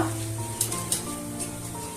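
Medu vada frying in hot oil, a steady close sizzle with a few small pops and faint stirring taps, no voices.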